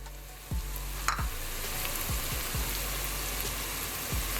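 Chicken parmesan sauce simmering in a pot, a soft continuous bubbling sizzle with a few sharp clinks and taps of a utensil against the pot.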